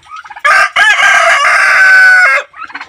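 Chickens call up close: a loud, drawn-out rooster crow framed by short clucks before and after.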